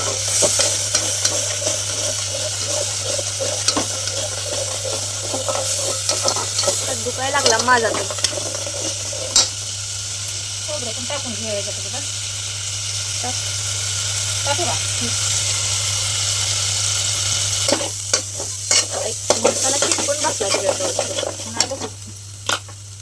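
Garlic, onion, ginger and masala frying in oil in a pan, stirred for a chicken dish, giving a steady loud sizzle with repeated scraping stirs throughout, rising into rapid clattering strokes toward the end.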